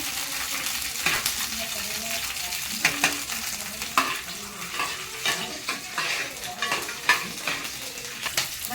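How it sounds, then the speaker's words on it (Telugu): Coconut pieces fry in a pan for chutney while a spoon stirs them, giving a steady close sizzle broken by frequent light scrapes and clinks against the metal. "మళ్ళీ కొబ్బరికాయ కాస్త ఎర్రగా వేసుకోవాలండి."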